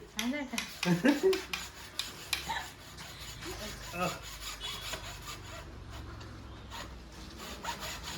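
A knife saws through a hard calabash fruit in a series of close, rough scraping strokes, louder and choppier at first and then settling into a quieter, steady rasp.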